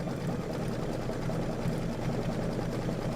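Embroidery sewing machine stitching out a quilt block on heavyweight stabilizer, giving a steady, quiet, continuous whirring hum with rapid fine stitching texture and no pauses.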